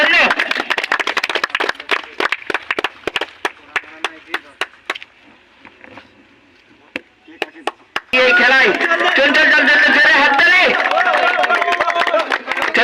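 At a local cricket tournament, scattered sharp claps come in an irregular, fairly close run, fall quiet briefly, then give way to loud overlapping voices and cheering from the crowd.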